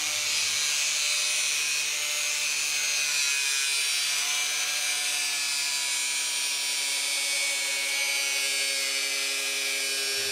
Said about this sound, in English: Now to cut this stuff, I find it easier to use an angle grinder.